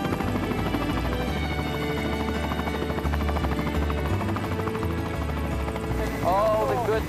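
Steady helicopter rotor drone and engine hum fill the scene as the helicopter comes in to land, loud and continuous, with a brief voice near the end.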